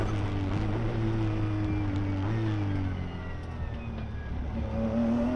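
A race car engine at the Nürburgring drones loud and continuous, its pitch climbing as it accelerates out of a slow chicane after a downshift, with rising whine in the final seconds.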